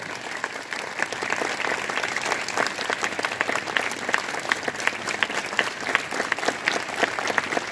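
A class of students claps hands together in a steady, rapid burst of many overlapping claps, fairly close and continuous, with no talking.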